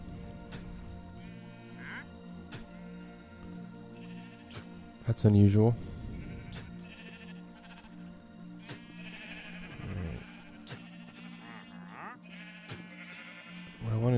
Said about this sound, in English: Got a sheep over there.